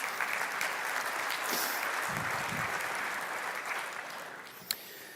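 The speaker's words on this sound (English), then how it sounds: "Somebody was already clapping there." Applause from a summit audience fills a conference hall, a fairly quiet, continuous patter of many hands heard from a distance, with a brief sharp knock near the end.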